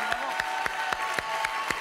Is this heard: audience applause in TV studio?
yes